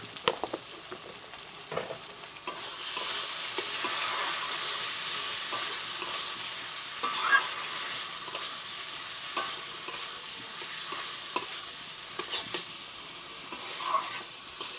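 Spices are stirred into koi fish curry frying in a pan, a continuous bright sizzle with scattered scraping and tapping stirs, close and moderately loud, with no talk.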